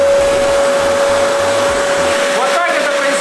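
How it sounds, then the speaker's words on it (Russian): A powerful household vacuum cleaner runs loud and steady with a strong whine, sucking up a coin and a battery; the pitch wavers briefly near the end as objects are pulled in, with faint rattling underneath. "Поэтому включаем пылесос"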